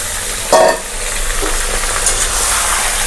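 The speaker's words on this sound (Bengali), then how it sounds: "পেঁয়াজটা একটু নরম হয়ে যাবে আর হালকা ভাজা ভাজা হয়ে যাবে, এই অবস্থা আমরা মাংসটাতে দিয়ে দেবো।" Chicken meat is dropped into softened, lightly fried onions in a pan for a chicken and potato curry, and a clattering stir sets off a loud burst of sizzling that settles into a steady crackle up close.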